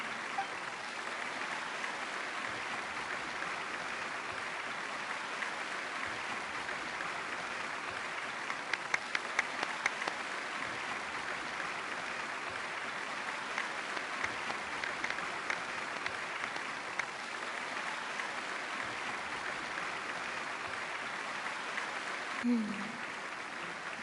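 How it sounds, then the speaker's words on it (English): Steady audience applause fills a Genshin Impact hangout quest scene, a dense, continuous wash of clapping at moderate level with a few sharper claps standing out midway, and no speech. "Will the applause continue after I take off the mask?"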